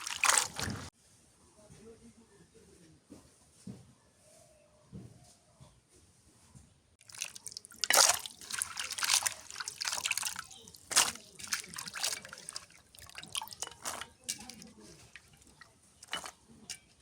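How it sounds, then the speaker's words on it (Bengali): Halved marfa vegetables are washed in water, with splashing, trickling and dripping sounds close by that grow busier and louder midway, with no talking. "এখন মারফাগুলো ধুয়ে নিই।"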